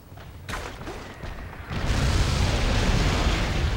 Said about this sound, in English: Oh, now they're shooting.